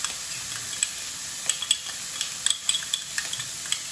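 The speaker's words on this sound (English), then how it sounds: "pieces of garlic in there. Just stir." Garlic fries with bacon in a pan, giving a steady bright sizzle close by, punctuated by frequent quick scrapes and light clinks of a utensil as it is stirred.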